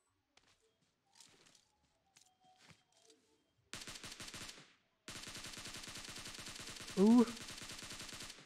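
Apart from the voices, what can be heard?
gunshots from the video game PUBG Mobile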